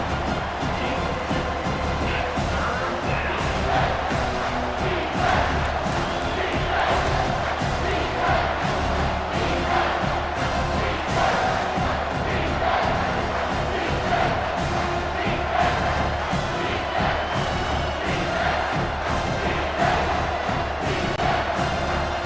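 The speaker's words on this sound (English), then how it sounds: "3rd down, and this crowd is bringing down the house." A stadium crowd roars during a third-down play in the video game College Football 25, a sustained, swelling wall of cheering and yelling that fills the scene at steady loudness.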